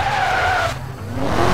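Bugatti EB tires squeal in a skid in the racing game Need for Speed: Most Wanted, a loud sliding screech with falling pitch over a rumbling engine, then a second squeal beginning.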